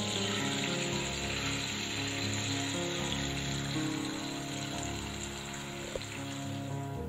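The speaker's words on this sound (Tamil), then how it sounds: "இதுல நம்ம புளிக்கரைசல் சேர்க்கணும்" Tamarind extract poured into a hot tempering in a pan while making temple-style puliyodharai, giving a steady, close sizzle and liquid rush that holds without break.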